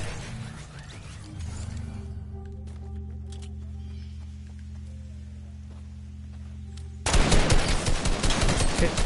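SMG gunfire in an online arena shooter game, a rapid rattling burst of shots that erupts loudly in the last two seconds after a quieter stretch of mechanical hum and clicks.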